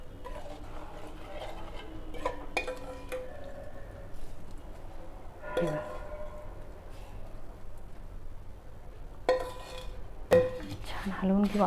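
Poha chivda mixture with fried peanuts and coconut being stirred in a pan, giving soft scraping and clinking utensil sounds at a steady background level, with a few sharper knocks near the end.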